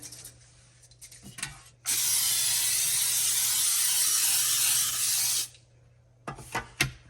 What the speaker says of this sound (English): And I like to spray them with Baker's Joy.